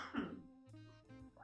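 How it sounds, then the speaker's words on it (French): A man clears his throat and coughs in a short, close, rough burst, followed by a few faint after-sounds. "Oui, monsieur va tousser."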